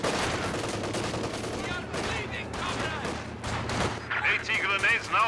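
Dense gunfire from Soviet conscripts in Company of Heroes 2, loud and continuous with rapid overlapping shots and bursts over about five seconds, a brief whistling effect near the end, and a commentator's voice running underneath.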